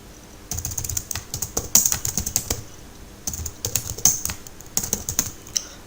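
Fingers type on a computer keyboard in quick bursts of crisp, close key clicks, pausing briefly between runs, with no speech.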